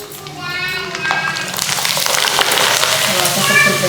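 Jowar papad frying and puffing up in hot oil, heard as a crackling sizzle that grows louder over a few seconds while someone talks over it.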